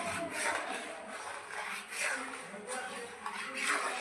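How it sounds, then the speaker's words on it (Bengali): Milk powder is stirred in a pan, making soft repeated rubbing and scraping strokes that come in gentle rhythmic swells. The sound is quiet and close. "গুঁড়ো দিয়ে কিন্তু নাড়তেই থাকতে লাগবে নয়তো লেগে যাবে তালায়"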